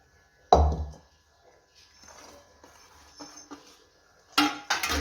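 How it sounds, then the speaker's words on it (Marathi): A spoon clatters against a kadhai while chopped onion, green chilli paste and coriander are mixed for crab-style onion bhaji, with one sharp clank followed by softer scraping and a few clinks near the end. "कढईमध्ये आपण सर्व मिक्स करून घेऊया"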